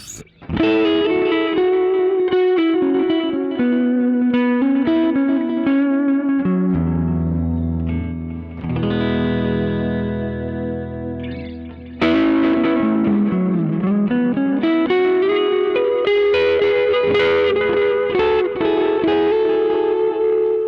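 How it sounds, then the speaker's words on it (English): Hagstrom Deuce-F electric guitar played through its warm single-coil neck pickup with an echo effect, chords and melodic lines ringing loud and sustained with repeating trails, alone without talk. "I can add a bit of echo to that."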